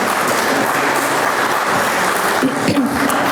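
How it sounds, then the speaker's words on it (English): Audience applause at a senior housing ribbon cutting, a steady wash of clapping from a crowd that holds evenly throughout, fairly loud and dense. "Yeah, you can clap."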